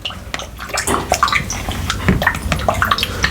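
Hands slosh and splash in a bowl of water, a close, irregular series of wet splashes and drips repeating through the moment with no talking.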